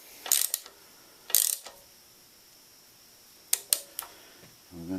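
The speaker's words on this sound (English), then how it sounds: "We're going to tighten this band up to 10 foot-pounds." Torque wrench tightening the band on a Dodge 47/48RE automatic transmission, several sharp close ratcheting clicks in short bursts separated by quiet pauses, with a duller knock at the end.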